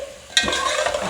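Beef being fried with ginger garlic paste hits a sudden burst of sizzling as the pan is stirred, then keeps up a loud, bright crackling fry for the rest of the moment; no speech.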